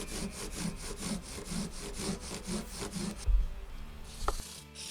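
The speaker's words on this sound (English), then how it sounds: "Now I'll continue on with the 400 grit wet sandpaper from Stu Mac on my scrub block." A guitar fretboard is wet sanded with 400-grit sandpaper on a scrub block, giving quiet, rhythmic back-and-forth rasping strokes close by, followed by a couple of soft knocks at the end.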